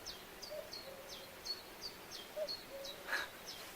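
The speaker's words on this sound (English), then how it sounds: "I love the sound of that bird." A small bird sings outdoors on a summer day, repeating short high chirps about every few tenths of a second. The chirps are faint and distant over a soft background hiss, and no one speaks.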